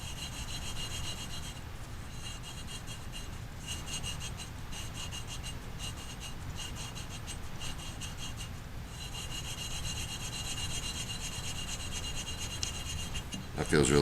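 An engine valve lapped into its seat with 400-grit abrasive compound gives a continuous gritty rubbing and scraping, steady and close for the whole stretch, with a few brief dips and a louder knock at the very end.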